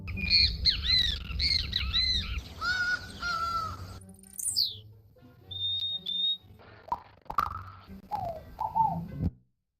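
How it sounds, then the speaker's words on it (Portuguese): Recorded wild bird calls of species that sing their own names: loud repeated squawks and whistled phrases in close series, with brief gaps of silence between bursts and no speech. "Você conhece as aves que cantam o próprio nome?"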